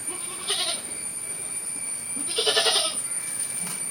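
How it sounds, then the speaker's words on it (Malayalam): A goat doe known for bearing triplets bleats twice among farm livestock, two short, fairly close calls separated by a pause over a steady background hum. "മൂന്നിച്ച മക്കൾ പ്രസവിക്കുന്ന ആട്"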